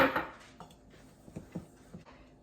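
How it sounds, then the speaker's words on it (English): Dry ingredients for apple streusel muffins, flour and sugar, going into a bowl, with a soft pour, then faint scattered clinks and taps of a utensil against the bowl, close and quiet. "I'm putting my dry ingredients together."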